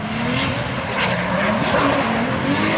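A drift car's engine roars continuously at high revs at a competition, with a dense broadband exhaust rasp and possible pops, though distinct bangs are not clearly separated in the steady loud noise.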